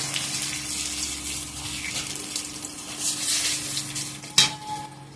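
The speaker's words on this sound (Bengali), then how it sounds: "অনেকটাই দিয়ে দিচ্ছি ফোড়ন জিরে শুকনো লঙ্কা তেজপাতা" Cumin, dried red chillies and bay leaves tempering in hot oil for posto chicken, a continuous bright sizzle with light stirring, a faint steady hum underneath and one sharp clink near the end.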